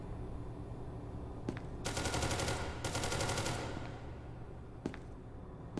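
Rapid bursts of automatic gunfire from a Crossvec loaded with armor-piercing rounds in a video game, two dense volleys of shots close together plus a few isolated single shots, loud and near.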